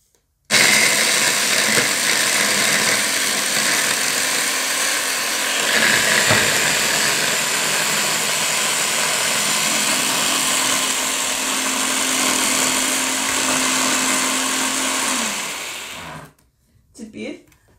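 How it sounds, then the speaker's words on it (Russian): A blender purees bell pepper into a pulp, its motor whirring loud and steady for about fifteen seconds before winding down and stopping. "Сейчас мы немножечко пожужжим. Мы превратим этот перец в кашицу."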